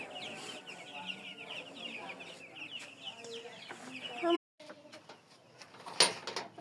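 Desi chickens cluck and chatter in a backyard during a morning feeding, repeated close calls with a brief break, then a sharp louder squawk near the end, under a little background noise.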